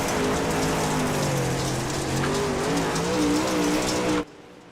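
Sim racing race car at Cedar Lake Speedway, engine droning loud and steady under throttle with rising and falling pitch, wrapped in broadband hiss, before cutting off abruptly near the end.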